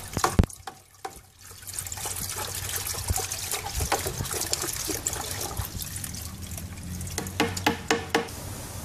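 A homebrew wash made from Gerber baby food is stirred to degas it, giving a close, continuous sloshing and trickling of liquid with small splashes and drips and no talk.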